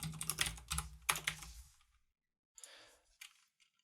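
Someone types code on a computer keyboard in a quick, close burst of key clicks, then a short pause before a few softer taps.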